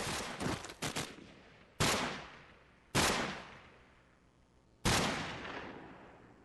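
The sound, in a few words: gunfire in video game Call of Duty 4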